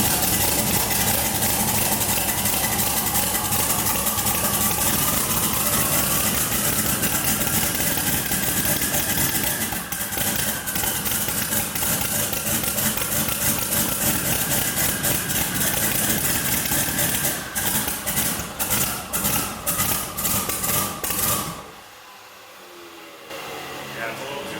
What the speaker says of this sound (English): Man, those turbos spin good, don't they?